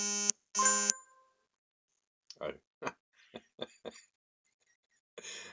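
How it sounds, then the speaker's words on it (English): A phone sounds a short electronic alert tone twice in quick succession when a connection drops, followed by brief spoken words and a few soft clicks. "that's my phone telling me I've disconnected."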